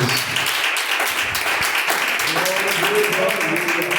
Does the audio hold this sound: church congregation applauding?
yes